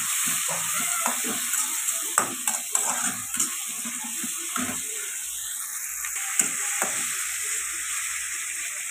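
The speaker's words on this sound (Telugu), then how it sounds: "ఇప్పుడు బాగా కలుపుకొని 1 నిమిషం పాటు ఫ్రై చేసుకుందాం." Tomato and onion with turmeric fry in a pan with a steady sizzle while a spoon stirs and scrapes in irregular knocks. The cooking sounds are close, and no one speaks.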